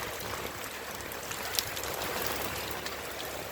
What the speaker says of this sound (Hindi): आज भी इसी समय पर ही बारिश हो रहा है